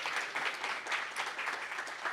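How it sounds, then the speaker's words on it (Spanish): Audience applause follows a panel discussion, a dense, steady patter of many hands clapping at moderate volume throughout. "Y un aplauso de nuevo a Rafi, a Yari y a Pedro Julio"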